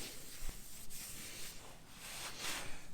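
Soft, continuous rubbing and wiping of a cloth across a surface, close and quiet, with faint scuffing strokes.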